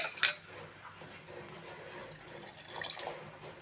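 A small amount of water, about a quarter cup, pours into a mixer jar of moong dal and semolina dhokla batter, with a short splash, a clink and then a soft trickle, faint and with no talk.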